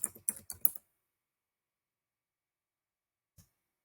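Typing on a computer keyboard: a quick run of four or five close, crisp key clicks, then silence and one last faint click.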